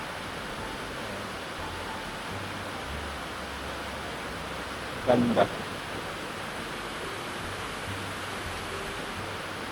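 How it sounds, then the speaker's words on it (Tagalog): Heavy rain pours steadily after two dry days, a dense, even hiss with no letup, broken briefly by a short louder clatter midway and a faint voice. "After 2 days nang walang pag-uulan, umulan ulit na malakas."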